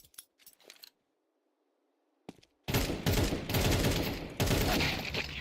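Video game firefight in a competitive league match: a few sparse clicks and a sharp crack, a pause, then a sudden loud, sustained burst of rapid gunfire and explosions that continues close and dense to the end.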